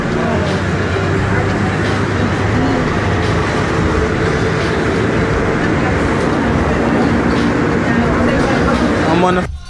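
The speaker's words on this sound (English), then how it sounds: "I'm on a moving train" An airport's automated plane train rumbles steadily as it moves, with a loud, unbroken low roar and rattle throughout, ending abruptly.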